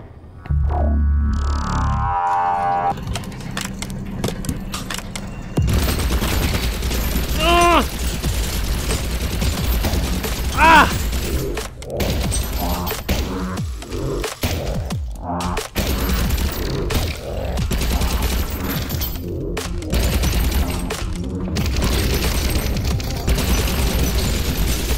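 Rapid bursts of alternate-fire gunfire from a toy-looking blaster in a shooter game against military-grade robots, crackling loudly and almost without pause over game noise, with short bangs and impacts scattered through.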